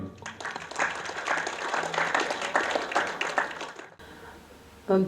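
An audience at a Karachi poetry evening claps loudly and continuously for about four seconds to welcome Dr. Hina Amreen, then the applause cuts off abruptly.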